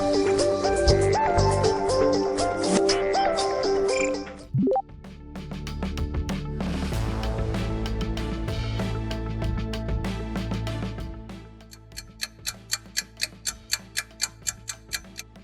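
A Philips smartphone ringtone plays as a bright electronic melody that shifts through several sections. It ends in a crisp, evenly spaced ticking pattern, with no voices over it.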